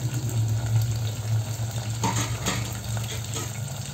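Onion and tomato pieces sautéing in a pan for mung matar saar, a steady close sizzle with soft stirring scrapes running throughout, no voices.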